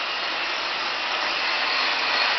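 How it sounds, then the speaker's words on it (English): A diamond grinder works a concrete floor during epoxy surface preparation, edging underneath equipment, giving a steady, loud, high-pitched abrasive whine that holds constant throughout without pauses. "we're doing some diamond grinding, some edging underneath the equipment"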